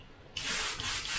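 An airbrush with a 0.2 needle and nozzle sprays overly thick H&S paint, a steady close hiss that starts abruptly after a short quiet lead-in and holds with slight wavering.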